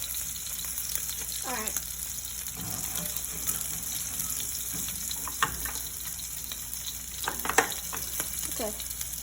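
Wagyu rib eye steak frying in a pan, a constant moderate sizzle with occasional spoon scrapes and clinks while basting, and a brief spoken word.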